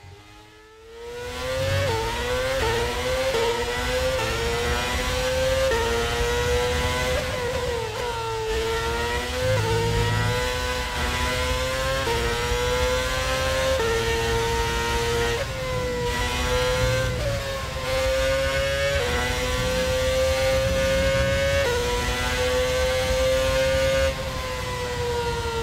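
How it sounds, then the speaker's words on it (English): A high-pitched Renault Formula 1 engine in a racing video game revs steadily and continuously, its whining tone rising and dipping with gear changes, loud and close throughout. "let's check out now the Renault engine here with the Alpine"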